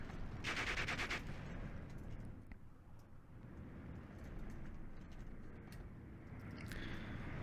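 Bursts of MG42 machine-gun fire in the Steel Division 2 World War II strategy game, a dense rattling volley loud at the start, then scattered distant gunfire and battle noise continuing underneath.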